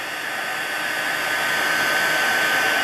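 A heat gun blows continuously, melting copper embossing powder in a tarnished foil craft technique, a loud, steady, close whooshing roar that holds unbroken throughout with no talk.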